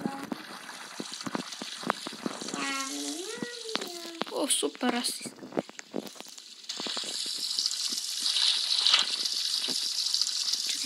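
Shower water sprays steadily in the Roblox Brookhaven RP game, a hissing gush that takes over in the second half, while players talk and assorted game sound effects chirp over the first part.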